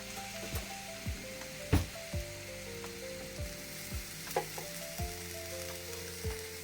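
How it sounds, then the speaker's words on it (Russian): Eggplant slices fry in a pan with a soft, steady sizzle, punctuated by a series of sharp clinks and scrapes from utensils or the pan, close and moderately quiet with no talking. "Пока обжариваю баклажаны,"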